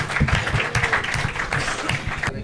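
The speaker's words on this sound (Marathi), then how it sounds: "तर एकदा जोरदार टाळ्या झाल्या पाहिजे." A live comedy-show audience breaks into applause, a dense, fairly loud stretch of clapping with scattered sharper claps that runs for the whole moment.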